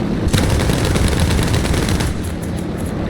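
Fw 190 A-5 aircraft guns fire in War Thunder as a loud, rapid, continuous burst of automatic cannon and machine-gun fire lasting about two seconds over engine drone, then fading into engine noise.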